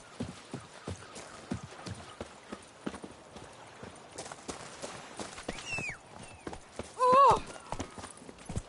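Roach the horse gallops in The Witcher 3, hooves clip-clopping in a rapid steady rhythm across the whole stretch, with a short whinny near the end and a brief voice exclaiming early on.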